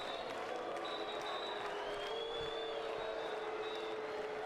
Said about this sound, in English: The crowd like the timeouts, gives them a chance to get involved and turn up the volume a bit.